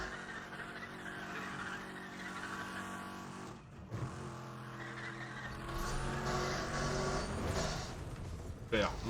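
In Need for Speed, a gold car races with a steady engine roar that rises and falls in pitch, joined by tire squeal and skidding and ending in a brief louder burst, under speech.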